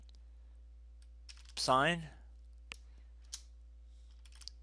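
A handful of sharp, isolated keystrokes on the keyboard of an HP Pavilion 27 all-in-one computer, spaced about a second apart, with a brief spoken phrase near the start.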